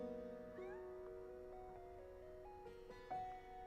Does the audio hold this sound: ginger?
no